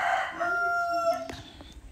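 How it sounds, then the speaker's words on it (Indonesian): A nearby rooster crows with a long, drawn-out call that rises and falls. It is followed by a few softer clucks, and there is no talk over it. "Banyak ayam bunyi ini,"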